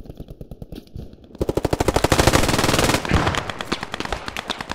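Rapid machine gun fire in the World War II shooter Post Scriptum: a steady, loud burst of closely spaced shots that starts after a quieter stretch of distant firing and continues with sustained rattling.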